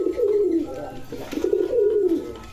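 A pair of red Bombay pigeons coo close by in a loft, with two or three soft rolling calls in a row.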